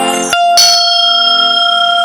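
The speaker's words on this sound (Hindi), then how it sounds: "अब आदमी मंदिर में जाते घंटी बजाते घलो।" A Hindu temple bell is struck twice in quick succession, ringing loud and close with a bright metallic tone that sustains and slowly fades.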